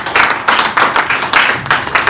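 A church congregation claps for the Lord during an evangelical worship service, a steady run of loud, rhythmic group clapping in bursts roughly every half second, with no voices over it.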